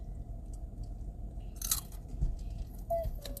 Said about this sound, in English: You hear those crunches?